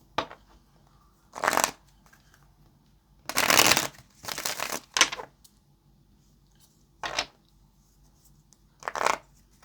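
Tarot cards are shuffled in short, separate bursts of riffling and crisp card noise, spaced by quiet pauses, close up and with nobody talking.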